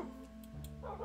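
Pet dogs in Minecraft give a couple of quick, quiet barks and yips in a brief burst, with no one talking.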